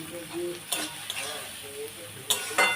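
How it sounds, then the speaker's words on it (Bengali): Onion and tomato are stirred while they fry in a pan, with a soft sizzle under repeated close scrapes and clinks of a spatula against the metal. "টমেটোটাও দেখুন একটু গলে এসছে আর একটু নেড়ে ফেড়ে নিই"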